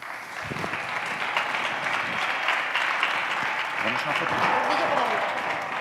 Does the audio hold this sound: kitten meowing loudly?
no